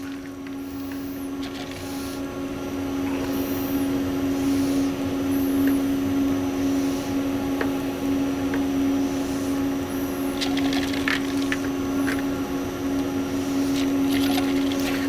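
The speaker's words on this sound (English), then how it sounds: "So the higher speed of the beater will help make the product come out that much faster." An ice cream machine runs with its beater at higher speed, giving a continuous, loud mechanical hum with a strong steady tone and faint clicks and rattles throughout.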